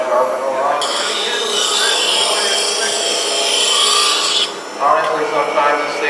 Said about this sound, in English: So you can see how easy it is to sharpen